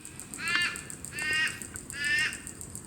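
Crows cawing outdoors: three drawn-out, harsh caws about a second apart, moderately close, over a faint steady background hiss.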